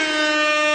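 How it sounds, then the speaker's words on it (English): A loud, sustained air horn blast sounded as a comedic sound effect on a talk radio show, a steady, brassy tone holding for under a second. "and that deserves an air horn, I think."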